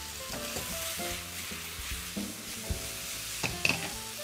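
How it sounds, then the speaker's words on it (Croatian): Vegetables fry gently in oil in a pan over low heat, a soft continuous sizzle with occasional stirring scrapes and small pops, close and steady with no voices. "i dalje ih pržimo na laganoj vatri"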